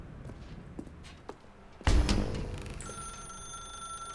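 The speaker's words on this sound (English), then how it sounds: "Now pick up the phone." A telephone in The Stanley Parable video game rings out loud and near with a sudden bright electronic bell, following a few faint footstep-like taps.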